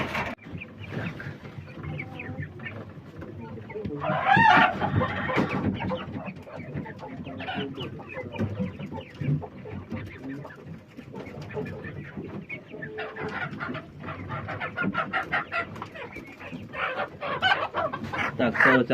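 Hens clucking steadily in wire cages on a poultry farm, a busy overlapping chorus of several birds close by, with a possible brief rooster crow.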